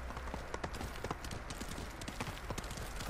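Horse hooves gallop in a fast, steady clip-clop rhythm across the whole stretch, close and moderately loud, in the samurai open-world video game Ghost of Tsushima.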